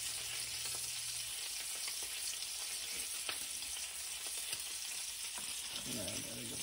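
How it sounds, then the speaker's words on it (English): Lumpia egg rolls fry in hot oil, giving a steady, close sizzle that holds throughout with small crackles and no voices. "We're gonna start frying it."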